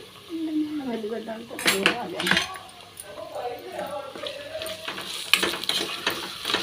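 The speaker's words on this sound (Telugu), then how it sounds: "ఇంకా కొంచెం సేపు ఫ్రై చేసుకోండి" A pan of potato curry with fresh garlic paste is stirred, with metal spoon scrapes and clinks against the pan over a light frying sizzle, close by, under a voice talking.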